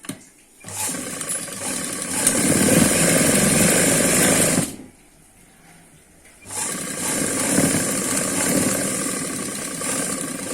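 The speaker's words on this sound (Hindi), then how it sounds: "इसका हम पहले यहाँ से लेकर यहाँ तक सिलाई लगा लेंगे" A sewing machine stitches the back panel of palazzo pants in a steady, loud, close whirring run, pauses for about two seconds, then runs again with no talking.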